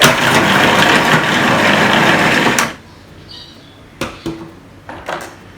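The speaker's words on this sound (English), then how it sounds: "So just put that into my magic mix processor. I'm just going to grind them for just a little while." A Magic Mix food processor grinds rehydrated dried shrimp for sambal, a loud continuous motor buzz for under three seconds that stops abruptly, followed by a few clinks and knocks of handling.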